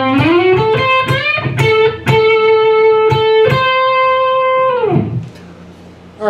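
Overdriven electric guitar runs the opening phrase of the solo, fast picked notes rising into a long held bend, then dropping away as the sustain fades; loud and close, no talking.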